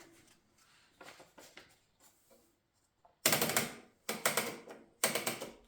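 Mignon 4 typewriter clacking in sharp bursts of rapid keystrokes, faint scattered taps at first, then loud close dense volleys separated by brief pauses.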